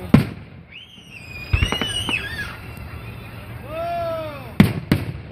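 Fireworks at a Hazel Park display go off in sharp, loud cracks near the start and end, with whistling rising tones in between while people talk and react nearby.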